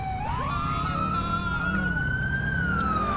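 An emergency vehicle siren in the video game GTA IV wails close and loud, one long tone sliding slowly upward and then back down over a low, steady engine rumble, with no voices over it.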